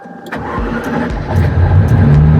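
A Ferrari F40 engine started with a key turn and a button press: a brief starter crank catches into a loud, rising mid-pitched idle that grows fuller and steadies, close up and with no talking.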